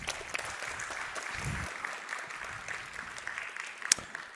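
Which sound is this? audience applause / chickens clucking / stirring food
audience applause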